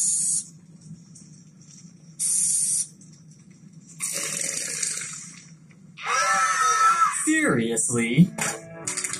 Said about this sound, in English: Are you all going to scream like that every time I start a new can?